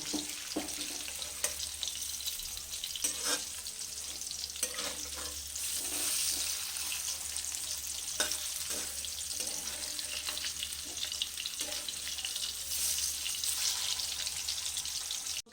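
Hilsa fish pieces sizzle and crackle steadily in hot frying oil, with occasional clatter as they are flipped, close up and continuous with no talking.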